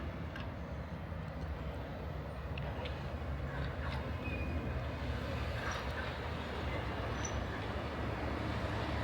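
A Magic Kingdom monorail rolls past outdoors as a steady, broad rumble that holds for the whole stretch, loud and continuous with a faint higher whine riding on top and no talk over it.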